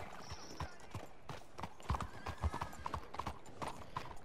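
Horse hooves clip-clop in a steady, moderately close rhythm in a video game, with faint whinnies and snorts mixed among the steps and light background ambience.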